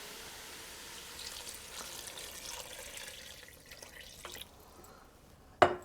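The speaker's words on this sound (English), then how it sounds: "Add the water." Water poured into a soup pot of drained potatoes and leeks for potage Julienne Darblay, a soft, continuous trickle and splash, faint and close, ending with a sharp clunk.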